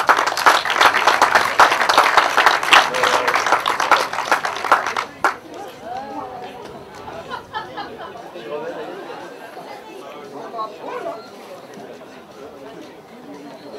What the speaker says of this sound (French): Je vous demande d'applaudir également